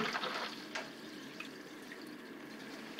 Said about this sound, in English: Let me turn on the water.